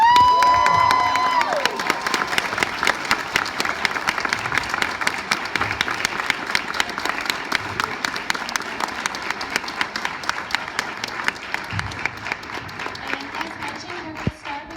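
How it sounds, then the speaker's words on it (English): An audience at a fan convention bursts into sustained applause after a celebrity book reading, many hands clapping steadily with a few cheers, after a brief whistle-like tone at the start. "Let's give David a round of applause"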